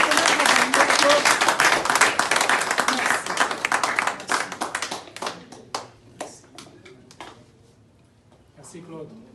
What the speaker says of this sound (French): Nous devons les remercier, l'applaudir.